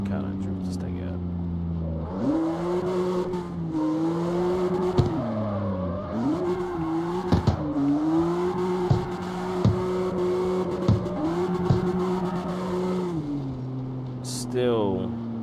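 A street car drifts in CarX Street with stock gas and a modified motor. A steady engine drone wavers as the car slides, with faint tire squeal and clicks, while someone talks throughout.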